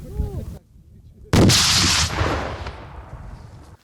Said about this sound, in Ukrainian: Це гранатомет РПГ-7.